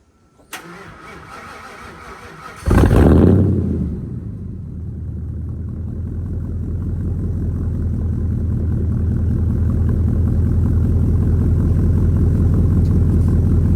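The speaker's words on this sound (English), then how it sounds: "Let me start this truck up. It sounds pretty good" A click, then a truck engine with a muffler delete cranks on a cold day and catches with a loud burst, settling into a deep, rumbling idle that grows slightly louder over time.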